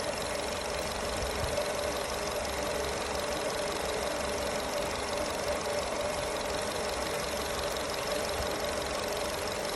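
Skoda Rapid car engine with about 2.5 lakh km driven, idling after a carbon antidote treatment, a steady even hum with a faint rapid ticking beat, close and constant throughout, no talk.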